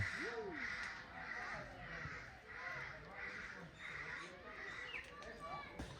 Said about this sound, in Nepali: यहाँ नि सबै चराई चरा छ पार्कभरि यार